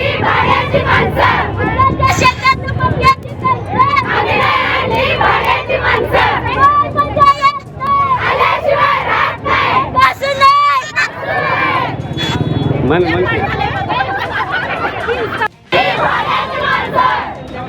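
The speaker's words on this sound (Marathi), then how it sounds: "महिला वर्गाकडनं देखील मोठा जल्लोष या ठिकाणी साजरा केला जात असतानाची ही सगळी दृश्य आहेत" A crowd of BJP party workers, including women, chants and cheers loudly and continuously at an election victory celebration after zilla parishad and panchayat samiti vote counting, with voices shouting rhythmically close by.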